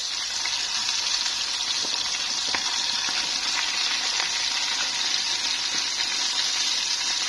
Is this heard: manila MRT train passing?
no